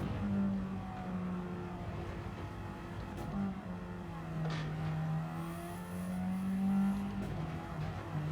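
Radical SR3 race car engine in Gran Turismo 7 on the Dragon Trail Gardens circuit, a steady loud near drone held under throttle with slight pitch rises and dips, running alone throughout.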